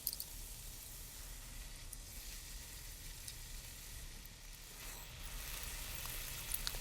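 Lemon ricotta pancake batter sizzling gently in a pan over medium-low heat, a soft continuous crackle and hiss with no talking.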